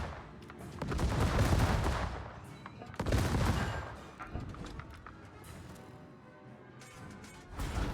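Bismarck secondary guns firing in World of Warships, a rapid rumbling fusillade of heavy naval gun blasts in two loud swells with quieter rolling shots between.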